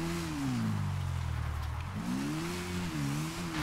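A 125cc motorcycle engine revs up and down close by, the pitch dipping low then climbing again in repeated throttle blips outdoors on a dirt surface.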